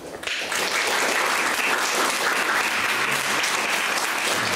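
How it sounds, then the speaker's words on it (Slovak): Loud, sustained applause from an audience welcoming a 96-year-old former partisan to a discussion event. The clapping starts abruptly and holds dense and even for several seconds, with no talking over it. "privítajme ho veľkým potleskom"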